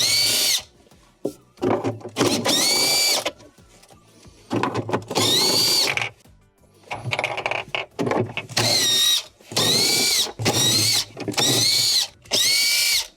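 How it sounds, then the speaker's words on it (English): A power drill backs out quarter-inch screws around the perimeter of a Whirlpool refrigerator's evaporator cover, running in repeated loud whirring bursts with short pauses between them. "use your 1/4 inch around the perimeter where all of the small tabs were to remove the 1/4 inch screws."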